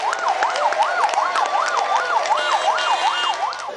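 An ambulance siren wails in a steady, repeating up-and-down sweep, loud and close, with no other sounds competing.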